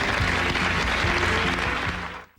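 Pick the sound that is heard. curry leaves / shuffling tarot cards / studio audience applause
studio audience applause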